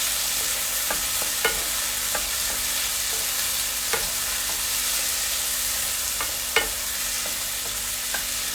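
Tomatoes added to a hot pan for a prawn curry sizzle with a steady, dense frying hiss throughout, broken by occasional soft clicks and taps of a stirring utensil.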